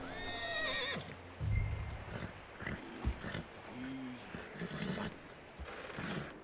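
Horse whinnies and hoof clip-clop from Red Dead Redemption 2, a western video game, with a sustained neigh near the start and scattered hoof and movement sounds amid background game ambience and some speech.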